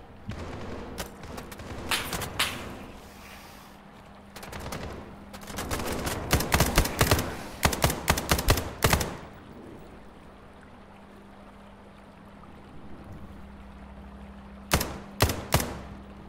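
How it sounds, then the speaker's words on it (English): Video game gunfire in SCP 5K: rapid bursts of automatic shots crackle in clusters, a loud sustained volley in the middle, then quieter background rumble and a few final sharp cracks. "Man, they're just shooting anything."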